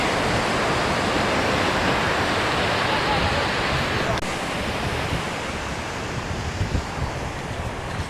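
Surf rolling onto a Riviera Maya beach, a loud, continuous wash of breaking waves with wind rushing against the microphone throughout.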